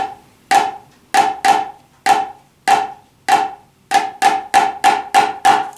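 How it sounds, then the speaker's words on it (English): Snare drum flams are struck one at a time at a slow tempo for an Alabama middle school All State snare etude. Each close, sharp double-stroke hit rings out alone, and the strikes come quicker toward the end. "try to play all of the flams with the right hand"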